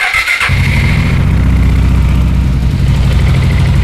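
A Yamaha XMAX single-cylinder fuel-injected scooter engine cranks and catches, then settles into a loud, steady idle rumble close by.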